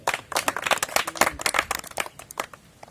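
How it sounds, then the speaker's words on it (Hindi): A crowd claps hands in a quick, irregular burst of dense slaps, loud at first and thinning out toward the end, at a live comedy and magic show. "ताली बजा"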